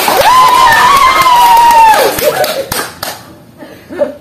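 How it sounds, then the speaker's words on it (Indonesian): Classroom students clapping hands together with cheering and a raised voice, loud at first and then thinning out into scattered claps and chatter. "Tepuk tangan dulu"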